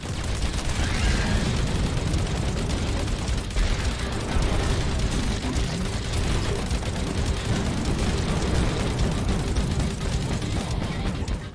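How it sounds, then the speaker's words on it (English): Heavy machine gun fire in the side-scrolling shooter Iron Meat, a dense, continuous roar of rapid shots and explosions that stays loud and unbroken throughout. "Heavy machine gun."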